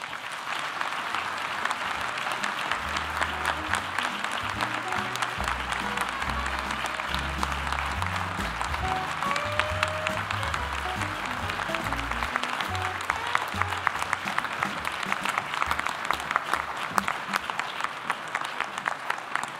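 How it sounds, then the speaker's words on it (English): Sustained audience applause at the close of a talk, steady dense clapping for the full stretch with a faint low hum underneath and no speech over it. "That was about a 16-second applause"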